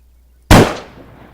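A single sharp rifle shot from a Type 115 in the game Arma 3, loud and close, with a sudden crack that decays into a brief rolling tail.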